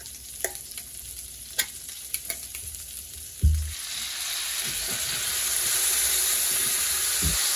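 Sausage and beans fry in a single pan for a honey BBQ ribs dish, a few sharp clinks first, then a thud as beans drop in and a steady loud sizzle that builds and holds close up.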